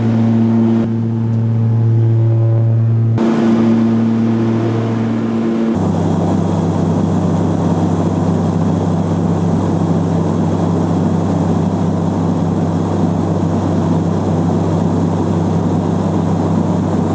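Engine drone of an airplane climbing out on one engine, full of fuel and passengers; a steady loud roar with low humming tones that shifts pitch and thickens partway through, with no talk over it.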